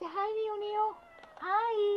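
A cat meows loudly twice, long drawn-out calls close by, with a person speaking briefly between the meows.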